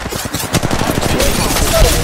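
Rapid gunfire from a mobile battle royale shooter, Apex Legends Mobile, crackles in dense bursts with game effects layered over it, loud and continuous throughout.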